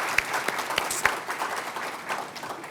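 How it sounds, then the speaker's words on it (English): A crowd applauds panelists at the close of a women entrepreneurs' panel discussion, with steady, dense clapping and a few sharper claps standing out near the start. "Let's give everybody a round of applause."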